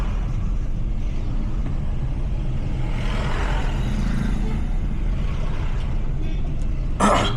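Road traffic on an Ooty hill road, a dense rumble of passing vehicles with engine drone and a brief hiss near the end, heard from close by under a voice talking.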